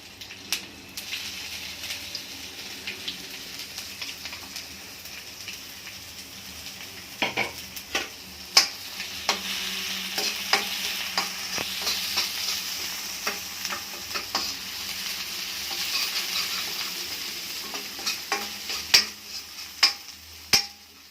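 Ground spice paste frying in a pan with curry leaves for a kadhi bhaji recipe, a steady sizzle running throughout with occasional sharp clinks of a spoon or utensil against the pan.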